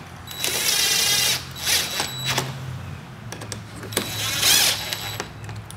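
A power tool with a T20 Torx socket bolts down a license plate bracket on a 6th gen Camaro with factory splitter, sounding as several short close whirring bursts separated by pauses and small clicks.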